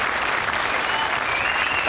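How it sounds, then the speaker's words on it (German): A television studio audience on a German comedy show gives strong applause, a dense, even wash of clapping at close range with no break. "der gibt jetzt bitte einen kräftigen Applaus"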